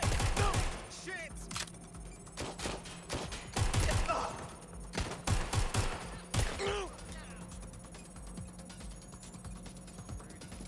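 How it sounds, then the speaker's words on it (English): Gunfire rattles in Watch Dogs Legion in several sharp bursts of rapid shots, loud and close, separated by short pauses and tapering off toward the end, with a voice heard among the shots. "I'm getting shot at here!"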